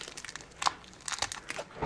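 Plastic toy packaging is torn open with the teeth, faint close crinkling and crunching in short irregular bursts.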